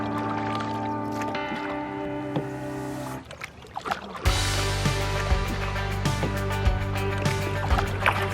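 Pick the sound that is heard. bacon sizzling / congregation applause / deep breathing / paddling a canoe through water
paddling a canoe through water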